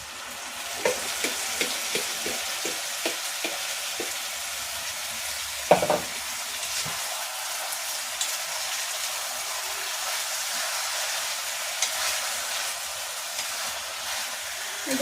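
Chopped onions and spices sizzle steadily in hot oil for a cashew-badam chicken fry, with a run of soft stirring taps early on and one sharper clatter near the middle, all close and continuous.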